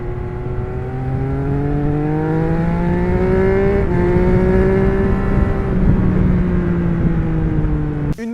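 A Triumph Speed Triple 1200 RS motorcycle with a 1200 cc engine runs in a steady, loud drone, its pitch climbing and easing slightly as the engine holds revs, close by with no talk.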